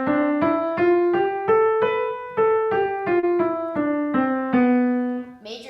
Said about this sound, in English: Major scale sounds like this.